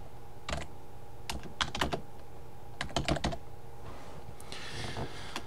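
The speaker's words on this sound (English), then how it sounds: "once I start typing things repetitively, I get bothered" Bursts of computer keyboard typing while coding in a Minecraft ComputerCraft game, quick clusters of crisp key clicks with pauses between, close over a steady low hum.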